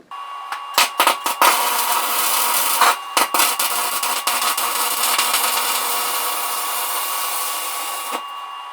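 A new DC arc welder burns a 1/16 inch rod, giving a loud steady crackling hiss after a few sputtering starts and short breaks at the beginning, then running continuously almost to the end.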